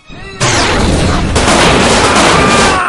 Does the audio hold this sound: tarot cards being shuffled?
no